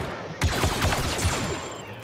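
Light machine gun fire from Star Wars Battlefront II during an Ewok Hunt match: a short burst of rapid, evenly spaced shots, loud and close, lasting about a second and a half.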